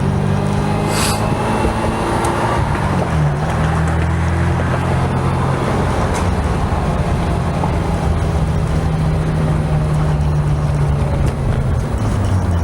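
A 1995 Ferrari 348 Spider drives into a downtown area, its engine a steady, loud droning hum with rising and falling tones as it cruises, plus wind and road rush from inside the car.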